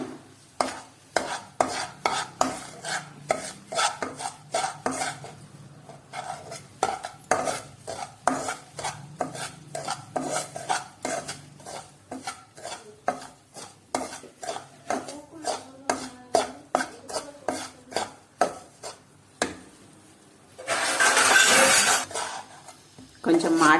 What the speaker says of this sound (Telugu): కొద్దిగా ఇంకా కొద్దిగా నెయ్యి వేసి దీన్ని ఫ్రై చేసుకుందాము.